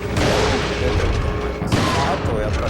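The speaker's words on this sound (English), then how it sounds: "we also worked very hard on the sounds for the guns" Dense bursts of rapid gunfire with booming impacts from the video game Resident Evil 4, loud and close, in a continuous chaotic volley.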